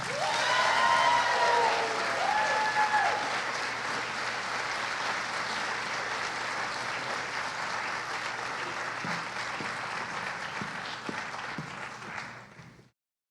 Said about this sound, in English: Please join me in another round of applause for Eric, Michael, Thaddeus, and Emily.